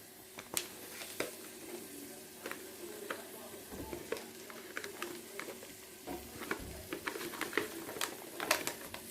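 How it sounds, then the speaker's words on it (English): Bacon frying in a pan, a steady soft sizzle with scattered crackles and pops and a few stirring or utensil sounds, fairly faint, with no talk over it. "That is going to now cook for about 10 minutes, just till it gets nice and brown."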